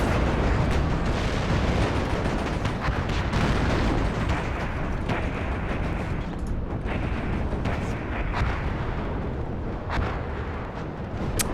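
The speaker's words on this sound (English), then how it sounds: "Just laying down a lot of suppressive fire." Suppressive gunfire and artillery in the war strategy game Warno, a continuous roaring wash of booms and cracks with scattered sharp reports, loud and sustained throughout.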